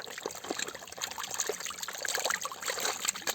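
A large mud crab is placed into water at night, with soft trickling, dribbling and splashing close by, an irregular watery patter lasting a few seconds.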